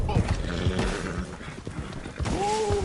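Hooves clip-clop in a busy Red Dead Redemption 2 game scene, with a horse whinnying near the end over layered ambient noise and music.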